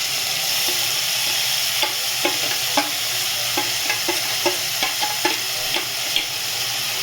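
Marinated paneer mixture frying in a pan for paneer rice, a steady close sizzle with regular scraping stir strokes, no voices.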